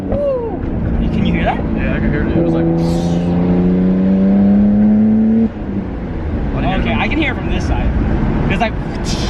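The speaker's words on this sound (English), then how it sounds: "the blow-off valve on this car is under the bumper, so it's a little bit harder to hear" Nissan R32 GTR engine fitted with a Blitz twin blow-off valve mounted under the bumper, holding a steady droning tone that climbs slightly before dropping off, with brief airy bursts around it and people talking throughout.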